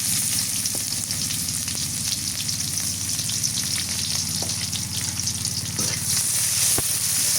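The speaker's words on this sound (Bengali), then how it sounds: "পেঁয়াজ কুচিটা দিয়ে দিই এবার।" Chopped onion hits hot oil tempered with black cumin and sizzles loudly and continuously, with occasional stirring scrapes and small crackles over the constant fry.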